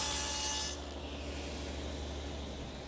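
A table saw with a dado blade cuts a groove through a wood piece, giving a continuous whirring and rasping drone. A harsher cutting burst comes first, and the sound then eases to a steady hum.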